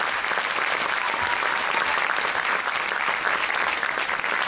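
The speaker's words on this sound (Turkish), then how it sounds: "Ve ona da bir alkış göndermek istiyorum." Sustained applause from a crowd at a Circassian association's cultural performance evening in Ankara, an even, dense clatter of many hands lasting several seconds without speech.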